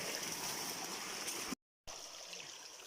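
A forest stream with unusual milky, rice-water-coloured water flowing steadily, a continuous close trickling wash that cuts out briefly and resumes.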